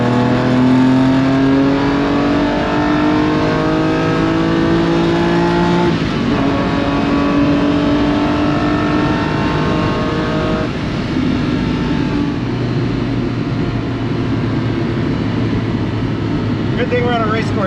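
Lamborghini Countach engine downshifting from fourth to third on a highway, a loud, close, rasping engine note whose pitch drops and climbs as revs change, with a voice talking over it.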